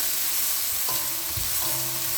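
Black beans frying in a little oil, sizzling and crackling steadily in a pan, a constant frying hiss with faint stirring.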